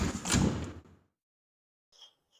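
A door slides open close by in a sudden loud rush that fades within a second, followed by near silence and a couple of faint later clicks.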